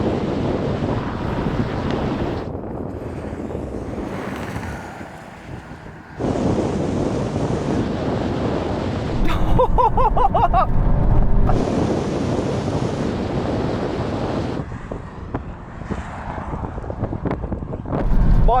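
Mountune-tuned Ford Focus ST hatchback arriving during a drag race against other hot hatches, its engine roar swelling loud and close through heavy outdoor wind buffeting on the microphone, with a brief quieter lull midway.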